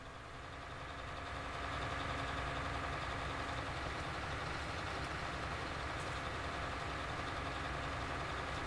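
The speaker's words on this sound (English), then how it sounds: "You said I love that tractor's idle sound." A tractor engine idles in Farming Simulator 19, a low steady rumble that swells in over the first couple of seconds and then holds even and continuous with no voices.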